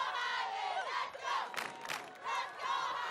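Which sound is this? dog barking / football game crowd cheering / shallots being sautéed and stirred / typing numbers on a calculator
football game crowd cheering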